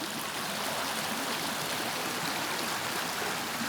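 Steady broadband rush of creek water flowing continuously, close and fairly loud, in a trout stream with pools.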